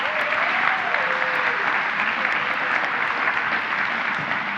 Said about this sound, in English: let's give a round of applause to everybody who participated in today's service